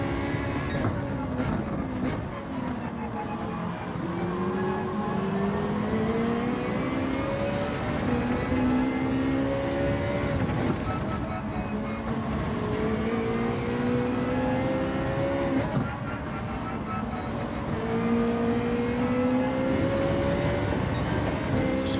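A Ferrari 458 race car engine in Gran Turismo 7, revving hard and shifting through gears in repeated rising whines that drop and climb again, a steady loud roar from the cockpit lasting the whole lap segment.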